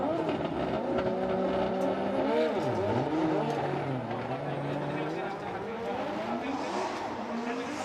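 A drift car's engine roars and wails near a track at Formula Drift Japan in Suzuka, its pitch swooping up and down with revving through the corners and a steady loud crowd wash around it, under continuous commentary.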